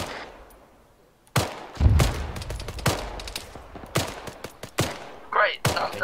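Bursts of weapon fire in the Arma 3 military video game: sharp, loud shots in quick uneven clusters after a quiet start, with occasional voice chatter between them.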